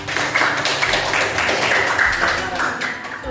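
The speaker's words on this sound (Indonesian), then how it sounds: "Beri tepuk tangan dulu untuk kelompok" Students in a classroom clap for a group, light scattered applause from a small crowd under some background chatter.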